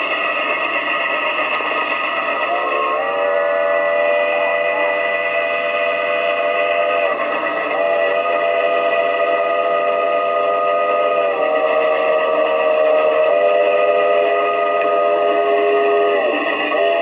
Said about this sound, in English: I was making a new train whistle.